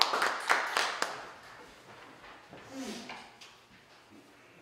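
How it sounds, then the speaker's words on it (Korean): Clapping in welcome from a church gathering at an MOU signing ceremony in a veterans' hall, a short burst of hand claps at the start that quickly dies away, leaving quiet room tone with faint sounds. "박수로 우리 환영하겠습니다."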